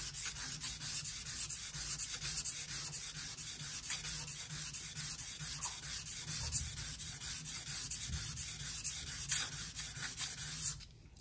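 A Victorinox knife blade is worked against a fast-cutting sharpening stone, giving a steady run of close, even rasping strokes that carry on without a break for about eleven seconds and then stop abruptly.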